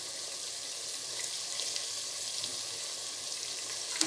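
Chopped tomatoes, five of them, hitting softened onions in a hot pan, giving a steady broadband sizzle that holds evenly throughout, close and moderately loud, with a small clatter at the very end.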